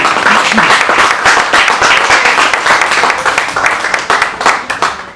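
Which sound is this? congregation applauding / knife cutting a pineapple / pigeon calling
congregation applauding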